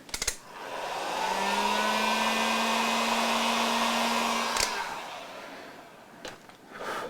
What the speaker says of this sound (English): Let's put a heat gun on here.